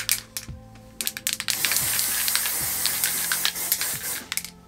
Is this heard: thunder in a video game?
no